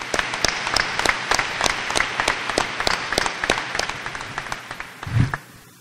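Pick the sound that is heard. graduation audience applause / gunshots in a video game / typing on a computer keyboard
graduation audience applause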